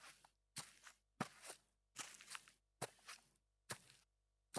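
Self-recorded footsteps, split into heel impact and lift-off layers for an Unreal Engine game project, play as seven distinct close steps at an even walking pace, separated by clean silence.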